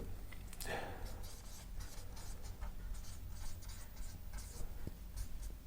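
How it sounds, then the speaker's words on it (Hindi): A pen writes a journal entry narration by hand on paper for an accounting lesson, making soft close scratching strokes in short bursts with faint background noise. "तो यहाँ पर एक नरेशन हम लोग लिख देंगे।"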